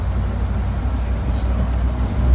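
A 2019 Arkonik custom Land Rover Defender being driven on the road after a service, its engine and road noise forming a steady, loud low rumble that swells slightly at the end.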